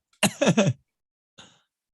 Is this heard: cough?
yes